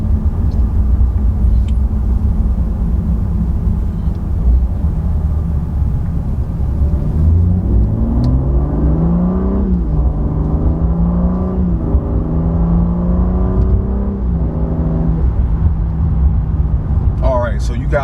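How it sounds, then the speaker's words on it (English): A BMW G80 M3 slows to about 15 mph and then pulls steadily back up toward 60 mph, its engine note rising and climbing through the gears as a continuous near drone, with a voice talking over parts of the run. "I'm gonna get down to about maybe like 15 miles per hour, then accelerate to 60 again"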